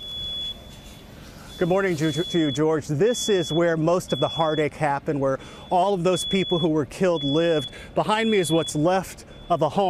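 Smoke alarms keep beeping inside the wreckage of a tornado-destroyed home in Beauregard, Alabama, a steady high electronic tone running under close reporter speech throughout.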